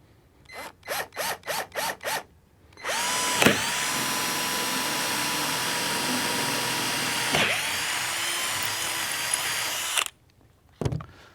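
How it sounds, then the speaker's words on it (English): Power drill boring mounting holes into a saltwater boat hull to fit a Minn Kota Riptide Terrova trolling motor: several short trigger bursts, then one long steady whirring run, a brief pause, and a final short burst, all close and loud. "So once we get the 2 front mounting holes drilled, we're going to drill the back ones"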